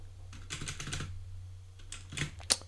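Bursts of quick, light computer keyboard typing come in two short runs, close and fairly quiet, with a low steady hum underneath and no voices.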